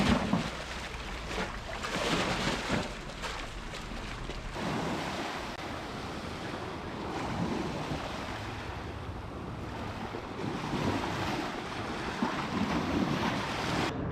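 Waves wash along the South Puget Sound waterfront in Washington State, a steady broadband surge of surf with wind buffeting the microphone, continuous and fairly close, with no talking.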